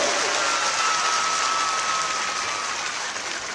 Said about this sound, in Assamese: এটা মানৱ ডেকাৰ কাৰণে ডাঙৰ হাত চাপৰি এটা ল'ব